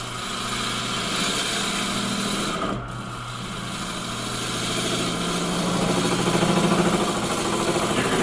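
A wood lathe turns a natural edge bowl, giving a steady mechanical whirr with a rhythmic pumping pulse that swells slightly louder toward the end, continuous and close with no speech.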